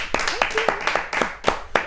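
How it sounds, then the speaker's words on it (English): Small studio audience clapping for a guest on a talk show, a short burst of sparse, distinct hand claps with a voice speaking over them. "please, big round of applause for Dr. Wendy Walsh"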